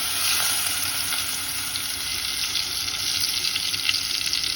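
Crushed garlic, coriander and green chili go into hot oil for a prawn dish, making a continuous close sizzle with a faint watery hiss and occasional stirring clicks.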